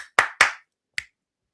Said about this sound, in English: clap 3 times on the count of 3